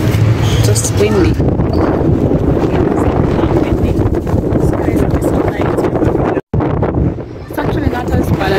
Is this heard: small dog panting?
no